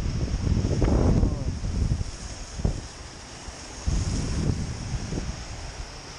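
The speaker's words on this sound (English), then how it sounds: "It's very windy as you can probably hear" Strong wind buffets the microphone in heavy gusts at Three Shires Head, a constant roar with rumbling surges and a few thumps, loud and close.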